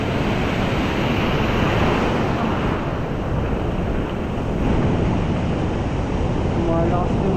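Steady broadband rush of ocean surf and wind buffeting a microphone at the shore during ultralight fishing, continuous and loud with no distinct breaks between waves.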